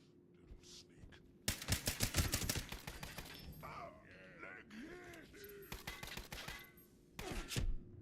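Rapid bursts of video game gunfire fired in loud volleys, then a quieter stretch with warbling game effects, and a final burst of shots near the end.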